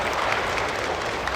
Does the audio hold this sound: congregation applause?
yes